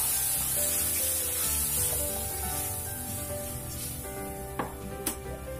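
Pre-boiled red lentil dal tipped into hot mustard-seed tempering for a tomato curry-leaf dal, giving a steady close sizzle and hiss with light stirring scrapes and a couple of sharp clinks near the end.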